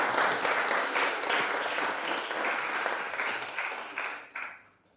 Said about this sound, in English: We should probably clap them.